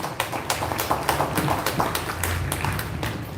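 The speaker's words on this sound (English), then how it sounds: "he deserves kudos and a huge round of applause to him" Audience at a school Republic Day celebration clapping together in a brisk, fairly close round of applause, dense and even for a few seconds.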